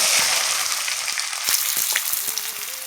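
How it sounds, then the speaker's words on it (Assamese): Onions fry in a hot kadai, giving a steady loud sizzle with occasional stirring clicks and scrapes close by. "এনেদৰে পিঁয়াজখিনি কেৰাহীত দি প্ৰায় ব্ৰাউন কালাৰ হোৱালৈকে ভাজিব লাগিব।"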